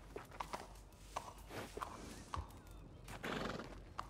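A horse in the Western video game Red Dead Redemption 2 whinnies and walks, its hooves clip-clopping in a steady uneven rhythm over a low background rumble, with a louder snort or rustle near the end.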